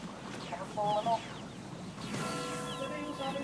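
A chicken in the game Ragnarok X clucks in a few short, bright, pitched bursts at moderate volume over game noise and background clatter.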